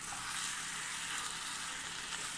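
Chicken with half a teaspoon of lemon juice, cooking for a Thalassery chicken dum biryani, sizzles steadily in a pan as it is mixed, a dense continuous hiss with no talk.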